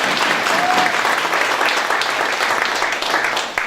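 Audience applause at a Justice Party city founding convention, a dense sustained burst of clapping from a large crowd, loud and steady before tapering slightly at the end.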